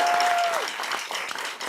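An audience claps at a county board of commissioners meeting, a steady wash of applause lasting throughout at moderate level, opened by a brief thin whistling tone.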